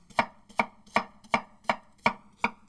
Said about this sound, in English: Next, I chop a tasty onion finely